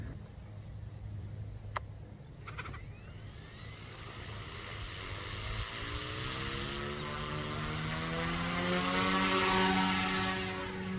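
A 2020 OMPHobby M2 V2 RC helicopter spools up and lifts off outdoors, its whining motor and rotor tone rising steadily in pitch and loudness after a few sharp clicks, growing from faint to a strong, nearby buzz.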